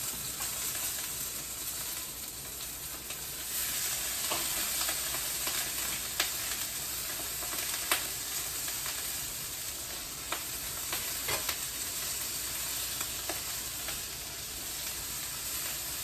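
Food fries in a pan with a continuous close sizzle and hiss, punctuated by scattered sharp crackles and pops throughout, at moderate loudness with no talking.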